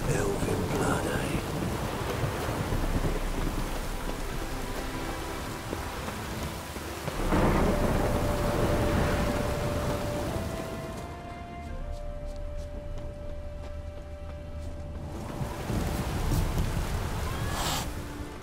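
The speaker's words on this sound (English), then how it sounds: "Storm, damn it." Heavy rain and rolling thunder from a storm in The Witcher video game roar steadily throughout, with a rumbling thunder swell midway; voices speak faintly beneath.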